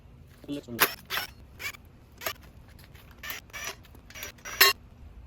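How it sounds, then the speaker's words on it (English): A screwdriver backing screws out of the cover plates on a Harbor Freight Pittsburgh 3-ton floor jack, close scratchy metallic creaks and ratcheting twists in short irregular bursts over quiet background. "let me go ahead and grab my screwdriver, and let me get these out of the way"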